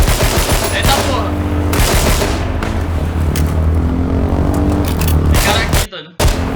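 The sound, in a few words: gunfire in video game H1Z1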